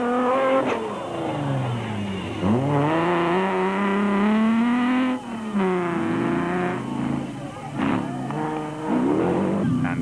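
An off-road race car called the Screamer howls at full throttle, its engine note rising and falling through gear changes as it races close by, loud and continuous for ten seconds.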